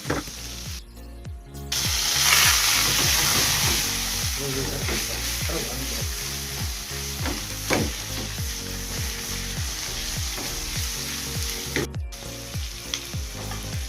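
Tomato and brinjal curry sizzles and fries in a pan at close range, with repeated scraping stirs of a utensil in a steady rhythm and a brief burst of louder hissing.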